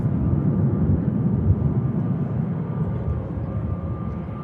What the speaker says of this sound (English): Ryanair heads out to Shannon